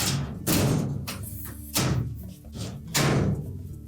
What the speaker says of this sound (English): Once that's secure, we can close the door up.